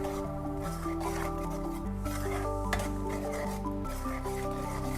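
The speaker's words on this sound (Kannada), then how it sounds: "ಸ್ವಲ್ಪ ಕೈ ಆಡ್ತಾ ಇರಿ, ಇಲ್ಲಾಂದರೆ ತಳ ಹಿಡಿಯುತ್ತೆ" Tomato puree being stirred in a pan gives a steady, soft scraping and bubbling texture that runs continuously under a constant hum, with no talking.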